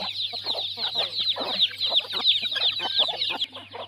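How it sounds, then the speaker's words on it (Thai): Chickens cluck busily while being fed in a rural Isan backyard, a dense, close chorus of short overlapping clucks and squawks with no talking. "ก็ให้อาหารไก่นะคะ"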